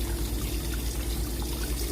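Water pouring steadily at close range while dried fish biryani is being cooked in a kitchen in the UAE, a continuous splashing trickle with no talk over it.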